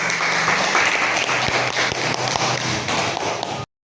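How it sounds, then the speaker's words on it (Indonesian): A classroom full of people clapping steadily together for a few seconds, then it stops abruptly. "tepuk tangan dulu"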